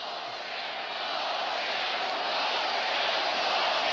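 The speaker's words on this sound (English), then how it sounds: "the crowd is chanting something" A large football crowd at Denver's Mile High Stadium roars and chants during a 1990 Monday night Chiefs–Broncos game, a dense, steady wash of voices that swells slightly and stays distant and continuous.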